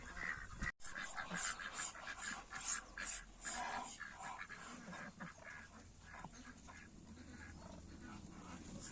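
Indian Runner ducks quack and call near a drake mating with a duck, a busy run of repeated honks and splashy scuffling heard up close and fairly quiet.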